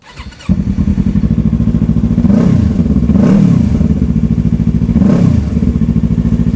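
A motorcycle engine idles loudly close by, then revs up three times in swelling surges before settling back to a steady rumble.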